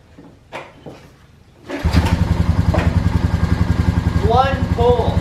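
A 2004 Honda Rancher TRX 400 four-wheeler cranks and fires after being refueled from bone dry, then settles into a loud, close, rapid idle with a few short squeaks over it.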